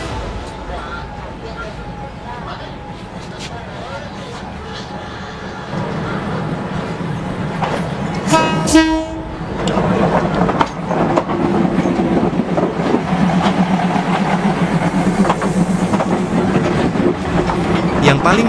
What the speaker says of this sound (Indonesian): Saat kereta mendekat